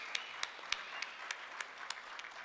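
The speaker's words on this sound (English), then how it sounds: "Everybody, give John an extra round of applause for the beautiful artwork that he provided" Faint, distant audience applause at the South Dakota Governor's Awards in the Arts: a steady hiss of clapping with sharper claps standing out at a regular beat.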